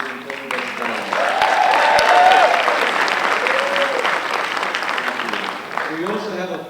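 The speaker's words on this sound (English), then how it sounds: "Let's give a big round of applause to his incredible staff." An audience at a university school of education hooding ceremony applauds the staff: loud, sustained clapping that swells and holds, mixed with a few cheering voices and whoops.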